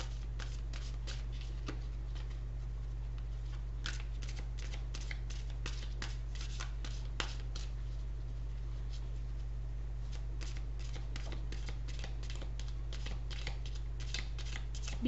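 Tarot cards being shuffled in quick, soft, irregular riffles and flicks, close and fairly quiet over a constant low hum, with no talk.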